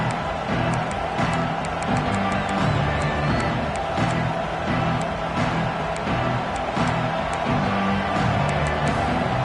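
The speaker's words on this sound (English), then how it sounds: "This crowd bringing an ear-splitting welcome to their visitors" Stadium crowd at a football game, a dense, steady roar of cheering and whooping that fills the whole stretch at a constant, loud level.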